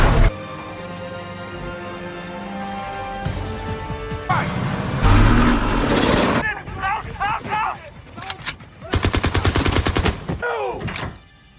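A war film's tank battle erupts in bursts of rapid gunfire and heavy blasts, which break through a tonal musical score. Whirring, sweeping mechanical sounds pass between the volleys.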